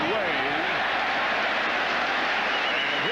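Football stadium crowd roaring steadily at an NFL game between the Baltimore Ravens and New York Giants in 1997, a broad sustained cheer with a play-by-play announcer talking over it throughout.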